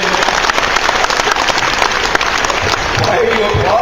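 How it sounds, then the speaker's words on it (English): A panel audience at a convention gives dense, steady applause that fills the room, with loud overlapping clapping throughout. "Why are you applauding?"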